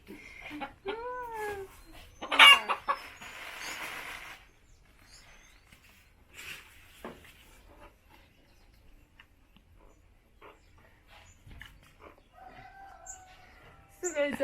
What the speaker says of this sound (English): The chicken is making noise and you cannot control